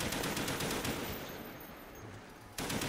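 Heavy gunfire in Call of Duty: Black Ops, including sniper rifle fire: continuous loud, dense shooting that eases for a moment, then resumes abruptly at the end, with no voices.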